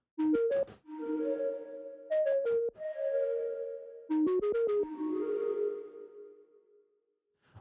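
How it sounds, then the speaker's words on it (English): Synth notes ring out in short melodic bursts, each followed by a smeared reverb tail that is itself echoed by a delay, three separate phrases with sustained washes fading out near the end. "you can hear the delay is just delaying the reverb itself"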